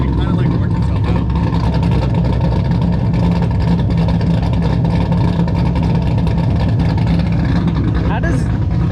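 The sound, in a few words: 2018 Camaro ZL1 engine exhaust, Kooks long tube headers, no mufflers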